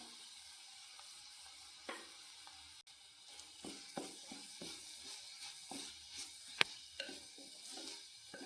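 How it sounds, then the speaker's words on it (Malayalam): Grated coconut tipped into a pan with sautéed onion and stirred, giving a soft, low sizzle broken by scattered scraping and tapping clicks from the spoon, fairly quiet and close. "തേങ്ങ ഇട്ടിട്ട് ഇങ്ങനെ ഇളക്കി കൊടുക്കണം"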